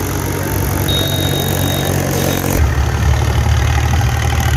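A tractor stuck in sand on the Ganga riverbank at Shivpur, Bihar, runs its engine with a loud, steady, close rumble that shifts slightly in tone partway through.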